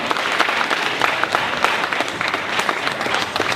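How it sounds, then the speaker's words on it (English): A debate audience gives a speaker a round of applause, dense continuous clapping filling the room, fairly loud and steady with only faint voices beneath. "Give him a round of applause."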